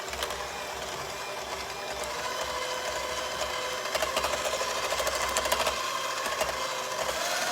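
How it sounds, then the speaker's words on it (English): Handheld electric mixer whirring steadily as it beats cream cheese with sweetened condensed milk, a continuous close motor drone with slight rises in pitch and load, no voices over it. "using my hand mixer, I'm going to mix the cream cheese and the sweetened condensed milk"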